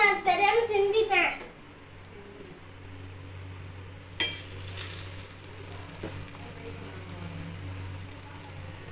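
An egg is poured into hot oil in a pan, and a steady hissing sizzle starts partway through and keeps going. A voice is heard briefly at the start.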